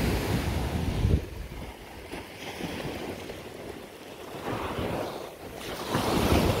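Ocean waves roll onto a secluded beach at Mamucabinhas, Barreiros, on the southern Pernambuco coast. A steady broadband surf roar swells in several surges, mixed with wind buffeting the microphone, and no voices are heard.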